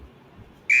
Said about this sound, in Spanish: El siguiente sonido a explicar es el sonido de un silbato de policía.